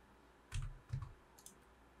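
A computer mouse clicking during pen-tool drawing work, two soft close clicks about half a second apart, followed by a faint tap, alone in a quiet room.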